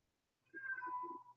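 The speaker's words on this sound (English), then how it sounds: "That's my cat howling." A single drawn-out cat howl, close and fairly quiet, rising in a wavering meow against a faint indoor hum, as the cat wants to be let back inside.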